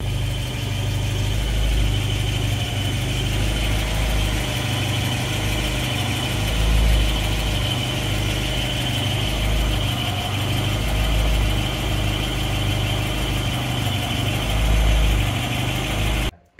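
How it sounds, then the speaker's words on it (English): A car's automatic transmission makes a slight noise while the engine idles: a steady low rumble with a faint vibrating hum above it, continuous and close. "there is a noise from the transmission"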